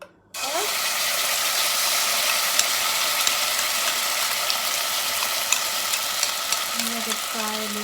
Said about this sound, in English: I'm just gonna go ahead and add the paste into the oil